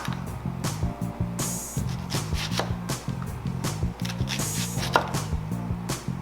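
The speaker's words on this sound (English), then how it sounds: "We're gonna cut this up kind of thin." Knife slicing onions thin on a cutting board, a quick irregular series of sharp chops and taps with short pauses, close and clear, with no talking.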